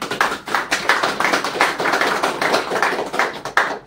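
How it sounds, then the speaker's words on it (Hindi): Quick, close claps repeat in an uneven run, one person clapping near the microphone in celebration of reaching 1K YouTube subscribers. "तालियां।"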